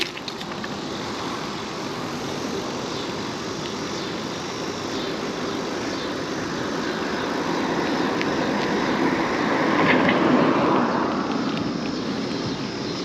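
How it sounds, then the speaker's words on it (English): A steady engine-like roar swells and fades as vehicles pass by at a distance, with a broad rushing hum building toward the end. "I think I got enough different cars going by"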